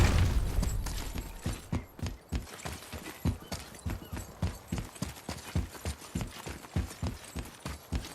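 Horse hooves clip-clopping in the God of War video game, a steady, evenly spaced trot of close, distinct thuds that carries on throughout with no talking.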